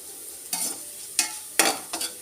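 Koorka coated in chilli powder stirred in a frying pan, four short scraping strokes over a faint sizzle, close and quiet with no voices.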